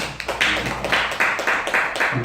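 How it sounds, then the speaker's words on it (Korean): Clapping from a church congregation welcoming an elder during a service: a small group gives sparse, fairly regular claps that repeat steadily through the clip. "우리 박수로 환영하겠습니다."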